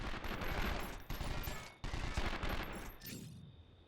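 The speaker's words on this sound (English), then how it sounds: "They're shooting at me." Rapid automatic gunfire in the video game 24: The Game, dense continuous bursts of loud shots that break briefly and then resume before cutting off, with no talking over them.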